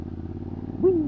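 A Triumph Scrambler motorcycle rides along a dirt byway, its engine giving a steady low drone throughout, with a brief rising-then-falling tone near the end.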